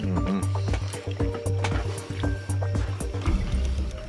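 Liquid pours and splashes in short repeated bursts, close by, with small clinks and gurgles between pours.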